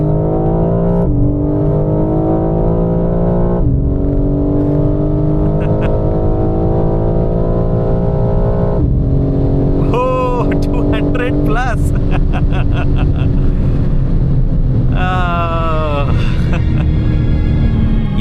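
BMW M4 Competition engine under way on the road, a steady low growl rising through the revs with gear-change breaks, while someone talks over it in Hindi.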